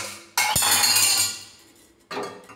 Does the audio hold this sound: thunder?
no